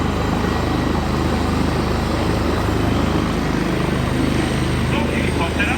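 A helicopter landing during a traffic collision rescue simulation, its rotor and engine producing a loud, constant broadband roar that holds steady throughout, with voices mixed in beneath it.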